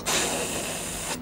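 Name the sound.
voice imitating a trolleybus rear door closing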